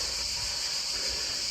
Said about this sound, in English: I don't know if you can hear that noise of crickets